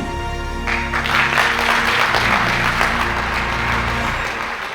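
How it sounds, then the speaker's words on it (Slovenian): Audience at a film premiere anniversary screening breaking into sustained, full applause that swells after a moment and continues evenly, close and loud, with no talk over it. "Točno to, ta aplavz, to je zvok uspeha."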